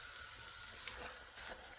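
Roast beef searing in olive oil and butter in a pot, a faint, even hiss of sizzling with a few soft crackles.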